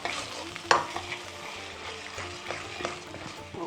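Chicken tikka masala tomato base being stirred over a steady sizzle, with a sharp clack of the spoon early on and softer scrapes spread through, close by.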